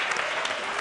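Applause from a conference audience at a youth and adults school transformation event, a dense, steady wash of clapping filling a brief moment with no gaps.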